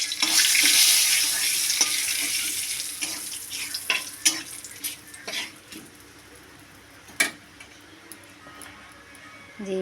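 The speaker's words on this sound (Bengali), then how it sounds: "মাছ ভাজার তেলের মধ্যে কালো জিরাটা দিয়ে দেবো" Black cumin seeds drop into leftover fish-frying oil in a wok for a village-style water lily dish, giving a bright, loud sizzle that gradually fades, broken by a few sharp utensil clinks near the end.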